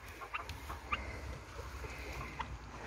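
Chickens being caught for flea and mite treatment give short, scattered clucks and squawks at moderate distance over a soft background rustle.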